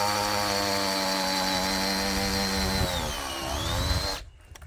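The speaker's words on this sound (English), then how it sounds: "So that drill's just about out of power." A cordless power drill whines steadily, then its pitch sags and wavers as the motor bogs down and dies with a nearly flat battery, ending abruptly.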